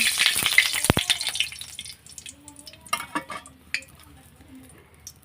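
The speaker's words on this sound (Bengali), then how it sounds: "এখানে আমি দুটা শুকনো মরিচ দিয়ে দিলাম শুকনো মরিচ যেটা ভালো হবে ভেজে নেব" Dried red chillies fry in a wok in a village kitchen. A brief sizzle and a couple of sharp metal knocks open the sound, then it drops to quieter scraping, clinks and faint crackle.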